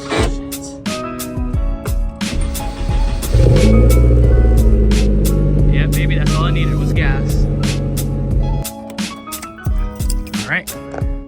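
A Nissan 240SX S13 engine cranks and catches, then idles roughly for several seconds with a deep steady rumble before shutting off, heard close and loud amid clicks and people talking.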